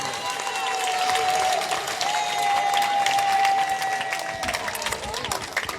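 Sustained applause from a large audience fills the space at a church gathering for an archbishop, steady and dense throughout, with a faint sustained tone underneath.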